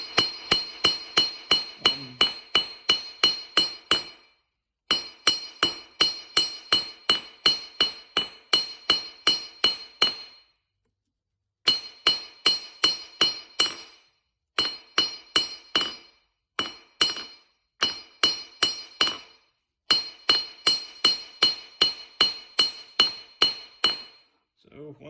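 A hammer flattens the tip of a nail while drawing it out, giving rapid runs of sharp, ringing metal blows. The strikes come in bursts of roughly a dozen, separated by brief pauses.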